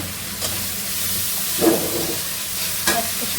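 Masala being stir-fried in a pan with vegetables going in, a steady sizzle under soft stirring scrapes and two brief louder clatters, no talking.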